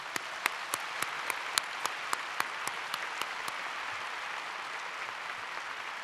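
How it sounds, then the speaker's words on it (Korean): Even, rhythmic claps sound through a steady hiss as a Korean gathering applauds its vice president. About a dozen distinct hand claps ring out at a regular pace, then stop partway through, leaving only the background noise. "박수 한번 쳐주시기 바랍니다."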